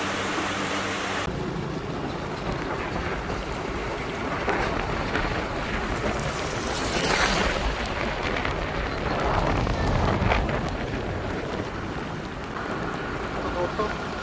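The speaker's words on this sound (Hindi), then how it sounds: "अभी काफ़ी बारिश हो रही है" Heavy rain pours steadily outdoors, a dense continuous hiss that swells slightly and holds throughout, with some wind rumble mixed in.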